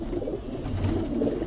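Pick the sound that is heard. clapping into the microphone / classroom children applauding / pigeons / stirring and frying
pigeons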